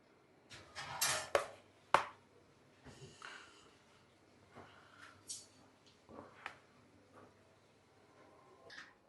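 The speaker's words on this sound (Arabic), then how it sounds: "غرفنا الرز وهغرف اللحم" Serving spoon scooping cooked rice and meat out of pots for lunch, several soft scraping and clinking knocks and taps against the pot sides, irregular and close, with one sharper clack early on.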